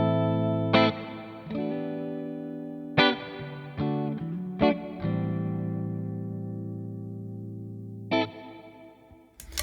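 Electric guitar through a Kemper Profiler picks out sustained notes and chords, each ringing out with a long, spacious reverb tail and a slight chorus shimmer, with no voices.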